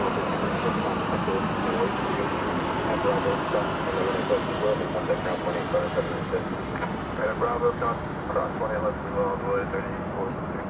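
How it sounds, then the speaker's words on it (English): An American Airlines Boeing 737-800 arrives at DFW Airport with a steady distant jet rumble and roar, heard under continuous talking. "we welcome a flight from Chicago, American Flight 370. It is a 737-800"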